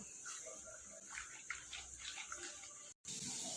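Water poured into rice flour to make a batter for kurkure makes a close, splashy gush with sloshing as the batter is mixed, broken by a brief drop-out just before the end.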